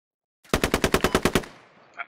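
A rapid burst of about nine automatic rifle shots from a firefight in the military shooter Squad, Peshmerga fighting ISIS. The shots are loud and close, evenly spaced, then a short fading echo and a faint later noise.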